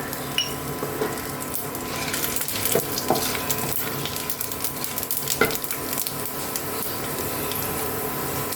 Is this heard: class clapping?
no